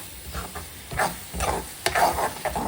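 Hot Khandeshi sev bhaji masala being stir-fried in oil: a close, crackling sizzle broken by repeated scraping strokes of a spoon across the pan, with no voices.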